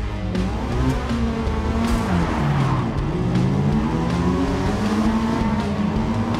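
A Mazda RX-7 rotary engine racing in the video game Forza Motorsport, a loud, continuous buzzing drone whose pitch climbs and falls through repeated gear changes, with faint tire noise.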